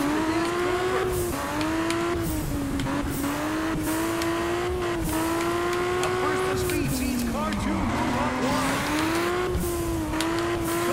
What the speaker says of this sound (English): This car would rather drift in the corners.